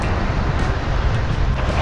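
Strong wind buffets the microphone at an outdoor fishing spot in a constant low roar, loud and unbroken, with a faint rushing hiss like distant surf behind it.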